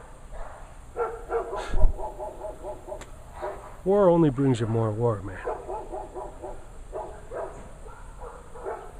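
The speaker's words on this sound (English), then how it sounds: "Hear those dogs fighting down there?" Dogs snarl and bark in a scuffle, a burst of yelping and growling mid-clip, fairly close, while someone talks throughout.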